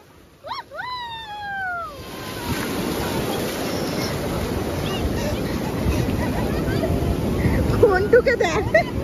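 Sea waves roll in at Puri beach, a steady rushing surf that swells louder over the clip, with wind buffeting the microphone. A few sharp high whistles or cries sound near the start.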